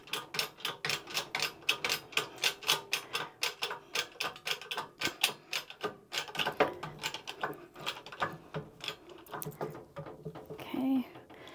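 A hand-cranked printing press being worked, producing a fast, regular ticking and clicking of its mechanism in quick repeated bursts that slow toward the end, close and fairly quiet.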